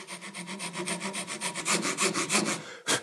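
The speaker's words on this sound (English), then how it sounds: "You can see me sawing precisely here and blowing away the sawdust." A hand saw cuts a wood miter on a small clamped piece, about twenty quick rhythmic back-and-forth strokes, close and clear, ending with a short puff of breath blowing away sawdust.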